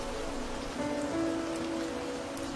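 Rain pours at midnight in Hyderabad as a soft continuous wash, with a faint low steady hum running underneath and no voices.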